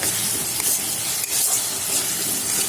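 Carrot halwa sizzles and hisses steadily in a pan as it is sautéed, a close, continuous frying noise with no talking.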